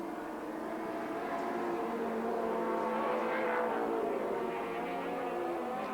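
A turbocharged four-cylinder touring race car engine drones steadily at Sandown raceway, heard from a distance as a sustained, even roar with a faint rise in pitch midway and no speech.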